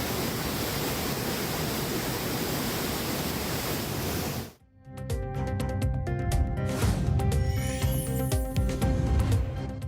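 Chinna Suruli waterfall in sudden flash flood after heavy rain: a dense, steady roar of rushing water fills the first half, then drops out abruptly and is replaced by rhythmic music.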